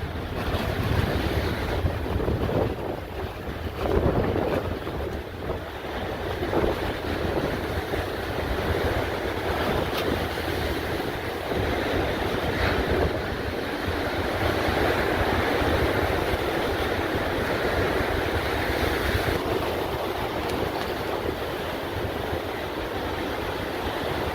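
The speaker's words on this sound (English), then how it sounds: "The waves are coming closer and closer." Steady roar of ocean surf breaking toward a shoreline, continuous and loud, mixed with heavy wind buffeting the microphone, with no voices.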